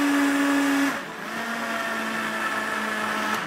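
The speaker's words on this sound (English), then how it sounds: "Check this blender out" A powerful blender, about 3 horsepower, whirs steadily at close range, its motor pitch dropping after the first second and then holding a constant high drone.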